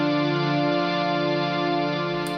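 A sustained, thick synth-like guitar tone from an Electro-Harmonix Synth9 pedal holds steadily with layered harmonics, loud and close, with no talking.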